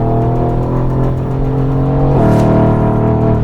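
Steady, loud engine drone from a Mercedes-AMG GT with an extra rear wing while driving, a sustained tone whose pitch drops sharply midway as the car shifts gear, with no talking.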